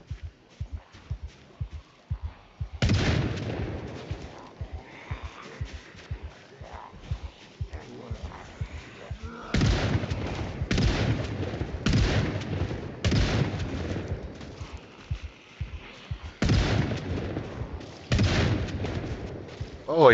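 Bursts of video-game gunfire in a zombie survival session near Irvington Speedway, fired close beside a vehicle: repeated loud volleys of rapid shots with short pauses between them, while talk runs quietly underneath.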